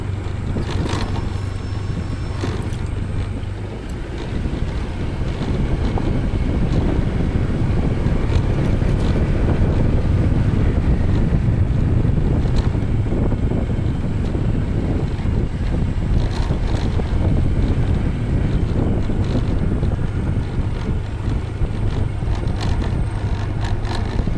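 Strong wind buffets the microphone with a continuous roaring rush, steady and loud throughout, with a low rumble underneath, on a motorcycle ride along a rural road in Laak, Davao de Oro.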